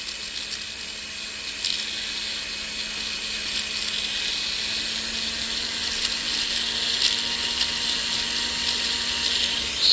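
A silicone wheel grinds a metal shank with a continuous, even whirring hiss that stays steady and close throughout, with no one talking.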